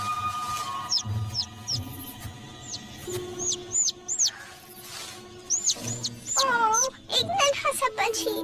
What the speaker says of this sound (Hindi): एक नन्हा सा पंछी।